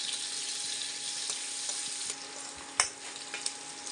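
Onions frying in a pan with cumin give a steady, close sizzle throughout, with a few faint clicks of stirring and no voices.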